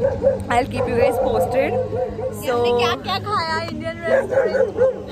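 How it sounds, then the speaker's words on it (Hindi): Several dogs bark and yip repeatedly close by, with whimpering in between, while people talk over them throughout. "सारे कुत्ते वो कुत्ते भौंक रहे थे"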